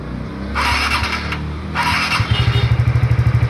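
A scooter engine with a freshly adjusted carburetor cranks with two whirring starter bursts, then catches and settles into a close, even, fast-pulsing idle.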